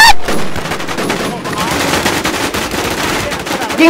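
Sustained, loud machine gun fire from the online survival shooter Infestation, a dense unbroken burst of rapid shots lasting about four seconds.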